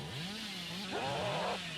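A revving chainsaw wielded by the Billy killer in the video game Dead by Daylight, its motor whine rising and falling in pitch, loud and continuous through the short stretch, with a sharper surge near the end.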